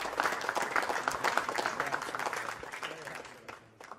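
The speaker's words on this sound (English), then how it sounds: "let's get a big round of applause for the first ever winner of the PokerStars Championship" A crowd at the final table of the PokerStars Championship main event in the Bahamas applauds the winner, a dense burst of clapping that carries on steadily and tapers off slightly near the end, with voices mixed in underneath.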